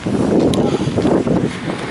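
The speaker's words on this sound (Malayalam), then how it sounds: "നല്ല കാറ്റ്." Strong wind gusting outdoors near a temple, a dense steady rush of buffeting noise close to the microphone with no pauses for its short length.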